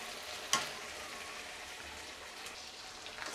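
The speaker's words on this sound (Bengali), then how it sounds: "আবার আমি নাড়ছি।" Spiced potato and egg curry frying in a pan and being stirred gives a steady, fairly quiet sizzle with one sharp click near the start and faint scraping throughout.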